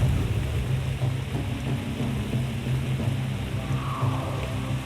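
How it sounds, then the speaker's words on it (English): A heavy, cold storm on a tropical island with hard rain pouring down continuously and deep rolling thunder underneath, loud and close throughout. "That's a real storm. Wow, here it comes hard and cold."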